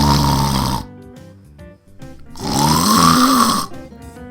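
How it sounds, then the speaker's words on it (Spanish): A man snoring loudly in a hotel room, two long rasping snores separated by a quiet pause, close and dominant. "él ya estaba dormido y roncando durísimo"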